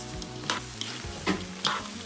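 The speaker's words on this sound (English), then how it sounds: "just continue stir frying your mixture" Pork intestines and meat stir-fry in pork fat and blood, a continuous sizzle with several sharper scraping stirs of the spatula breaking through at intervals, close and steady.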